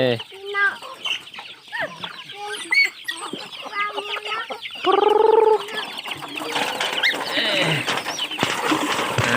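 Chickens cluck and squawk busily while being fed, with one loud harsh call standing out midway, and a faint voice calling among the birds.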